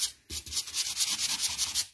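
Ink being rubbed and blended onto a paper card, a close, steady scratchy rubbing in quick repeated strokes for about two seconds with no talking.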